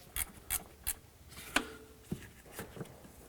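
A ratchet clicks in short bursts, with a few metallic taps, as intake manifold bracket bolts on a 2003-2007 Nissan Murano are tightened by hand; close and fairly quiet.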